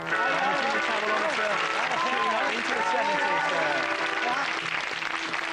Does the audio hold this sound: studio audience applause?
yes